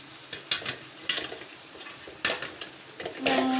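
Three beaten eggs stirred and fried in a pan for egg rice, with quick scraping stirs and a soft sizzle that briefly swells near the end, close and moderately quiet, no talking.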